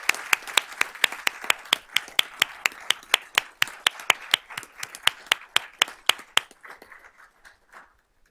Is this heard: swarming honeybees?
no